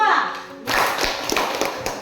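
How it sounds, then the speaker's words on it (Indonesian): Children in a classroom clap for a presenting group, a burst of dense applause that starts abruptly after a voice speaks and continues as rapid, close handclaps. "tepuk tangan untuk kelompok 2"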